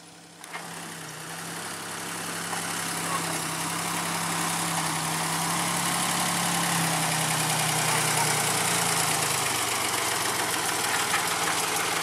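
A small D4 locomotive's diesel engine runs steadily nearby at a sugarcane plantation, a continuous low drone that grows slightly louder and holds, with no talk.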